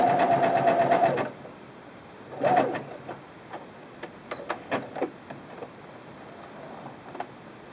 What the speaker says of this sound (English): this is the widest zigzag that this machine will stitch